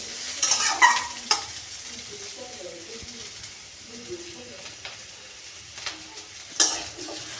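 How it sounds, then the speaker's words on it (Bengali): Onions frying in a pan for a bottle-gourd greens and prawn dish, a soft sizzle with stirring clatters and a few sharp utensil knocks, speech faint in the background. "আর পেঁয়াজটা যদি লাল করে ভাজেন"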